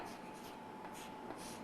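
Marker or chalk scratching steadily across a classroom board while electron configurations are written out, a continuous close rubbing texture lasting under two seconds.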